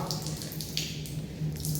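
Water runs from a newly opened tap at a water plant with chiller machines and tanks, a steady rushing splash that holds for the whole stretch at a moderate level.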